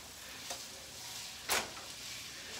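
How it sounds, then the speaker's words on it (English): Sausage sautéing in olive oil in a pan, a quiet, low sizzle broken by two short bursts of stirring or shifting in the pan, the second one louder, with no voices. "when you saute it in the olive oil on your sausage, you start to get those brown marks"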